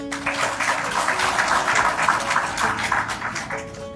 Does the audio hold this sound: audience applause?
yes